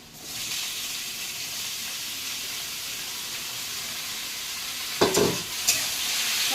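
Potatoes fry in a pan with a continuous loud hiss and sizzle, then a couple of sharp scraping stirs break through near the end.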